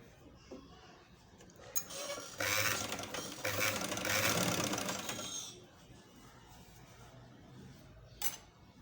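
Sewing machine stitching zigzag lace onto a dupatta, one short burst of about three seconds of rattling needle motion, fairly quiet, with a small click near the end.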